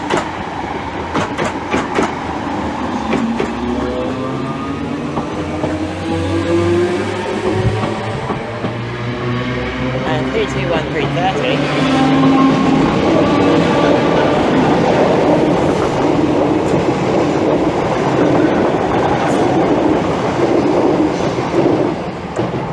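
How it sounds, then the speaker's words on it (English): A British Rail Class 315 electric train of the Transport for London mainline pulls into Bethnal Green station, loud and close, with rising motor whine, rolling wheel clatter and growing rumble as it arrives. "And now arriving in is 315817. Transport for London Mainline."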